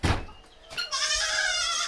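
Young kid goats bleating inside a farm barn, several high, excited bleats following a brief thump, fairly close and continuing steadily.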